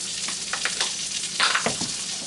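Sausage frying in a pan, a continuous crackling sizzle with scattered louder pops and spits, close and steady, with a brief stirring scrape partway through.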